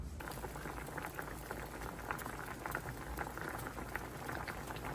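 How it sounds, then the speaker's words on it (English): Sweet potatoes boil in a pot of water, a steady bubbling hiss with soft irregular pops and gurgles, close and continuous, with no talking. "we're gonna bring these to a boil until they are fork tender"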